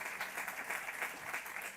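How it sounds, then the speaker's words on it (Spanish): A lecture audience gives a speaker a warm welcome with applause, a soft, even wash of many hands clapping, steady and fairly faint. "Vamos a recibirla con un fuerte aplauso."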